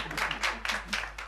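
A group of women at a ladies' club meeting applauding, with brisk, loud clapping in short bursts close by, no voices over it.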